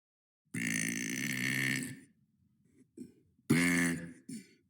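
A person lets out a long, loud, drawn-out burp lasting over a second, followed by a few small throaty sounds and then a second shorter, forceful belch, all close and alone.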